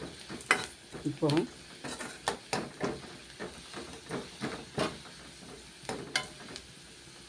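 Fennel seeds and onion fry in a pan for beetroot masala kootu poriyal, with a soft, constant sizzle under a string of repeated spatula scrapes and taps, close and quiet. A voice speaks briefly.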